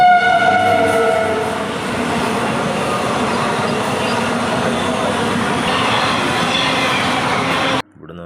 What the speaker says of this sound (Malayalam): ട്രെയിൻ വരാറായിട്ടുണ്ട്. ഇപ്പോൾ ട്രെയിൻ വരുന്നത് കാണാം.